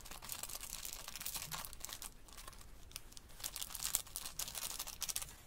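Close crinkling of a packet with a soft grainy rustle of powder being poured, continuous for a few seconds.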